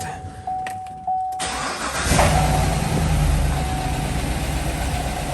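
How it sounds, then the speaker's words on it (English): A GM car engine cranks and catches, settling into a steady loud idle after a few seconds of clicks and quiet handling noises, with no speech over it. "Let's crank it and see what happens to the circuit."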